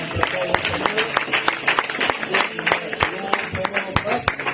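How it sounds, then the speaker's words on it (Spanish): A church congregation claps together in praise, with sharp rhythmic handclaps over a lively crowd din and voices mixed in. "aplaudimos al Señor."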